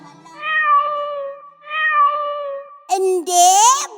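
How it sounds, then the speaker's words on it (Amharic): A cat meows several times in close succession, long drawn-out calls with a rising, strained final cry, heard up close in a children's program setting. "እቺማ ድመት ናት"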